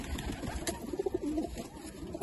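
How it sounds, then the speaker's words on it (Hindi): Pigeons coo softly nearby in a loft setting, low repeated burbling calls overlapping amid faint background rustle and ambient noise. "मैं चंद कबूतरों का आपको शौक करा रहा हूँ"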